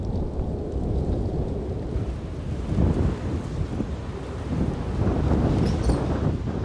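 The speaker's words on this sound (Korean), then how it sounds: "오후가 되자 용대리에 강한 바람이 불어닥칩니다." Strong winter wind gusts roar across the pollock drying racks at Yongdae-ri, Gangwon Province, a continuous loud broadband rush that swells in surges, with the frozen fish rattling faintly on the racks.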